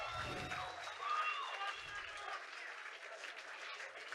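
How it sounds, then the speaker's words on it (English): Crowd at an XFC 43 mixed martial arts event applauds steadily after a fighter's mic speech, a dense, moderately loud wash of clapping mixed with cheering and low crowd murmur throughout. "Give that man a round of applause"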